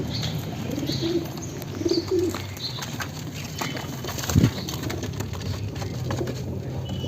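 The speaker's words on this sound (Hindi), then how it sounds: "ये एक बीमार कबूतर है" A sick pigeon shut inside a wooden box gives soft, low coos in short bursts at close range, with a brief rustle of wings partway through over a steady background hum.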